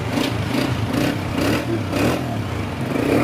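A 2014 Honda Deluxe 125 motorcycle engine runs steadily at idle, a continuous mid-pitched thrum with slight pulsing, close and fairly loud, with no talk.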